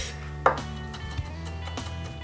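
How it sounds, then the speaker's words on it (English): A knife chops and dices jalapeno on a cutting board for a fine dice, one sharp near chop standing out among lighter taps over a steady kitchen background hum. "run your knife through one more time to whatever consistency you want your jalapeno to be"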